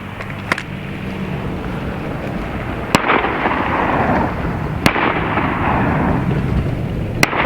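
Sharp, loud reports from a .50 caliber air rifle charged to about 3,900 PSI and fired at a 100-yard target, about four distinct cracks spaced a couple of seconds apart over steady outdoor background noise.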